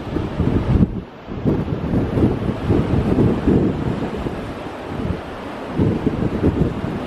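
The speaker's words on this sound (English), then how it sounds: "waves crashing in over there" Wind-driven waves crash onto a rocky coastline along the Cape to Cape track near Wyadup, a steady roaring wash with surging pulses and gusts buffeting the microphone, no voices.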